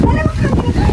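Strong wind buffets the microphone with heavy low rumbling gusts, loud and close, with a voice speaking underneath.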